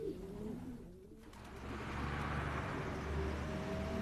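Racing pigeons coo in a low, steady murmur, close by and continuous over a dense background hum, with no talking.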